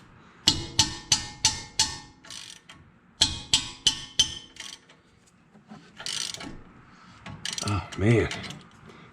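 Ratchet wrench clicking on a 17 mm bolt at the front brakes of a 2008 Toyota Tacoma, near a hard brake line: two bursts of rapid ratcheting clicks, then heavier rubbing and straining, with someone briefly speaking.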